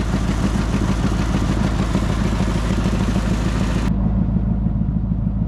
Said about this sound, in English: this thing idles down. Nice and smooth. Once it gets a little heat in it.